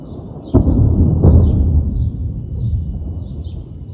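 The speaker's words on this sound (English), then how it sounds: "Should have thunder any second now." Thunder from a lightning storm: two sharp cracks in quick succession, then a long, loud rolling rumble that slowly fades, with birds chirping faintly throughout.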